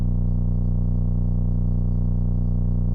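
A low, pure sine bass tone with no harmonics, the kind of 808-style sub bass that lacks upper overtones, holds steady and alone at constant loudness throughout.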